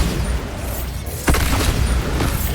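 Bombarda blasting spell in Hogwarts Legacy lands as a sudden deep boom midway, rising out of a rumbling battle din and followed by crackling debris, loud and close.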